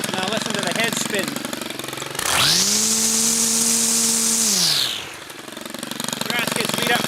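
A STIHL string trimmer throttles up so its head spins with a loud, steady whirring whine for several seconds, then winds down to a choppy idle.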